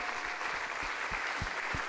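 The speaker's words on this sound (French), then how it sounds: "Des applaudissements, s'il vous plaît." A festival audience applauds as a young performer is introduced, a sustained, fairly distant wash of clapping heard throughout.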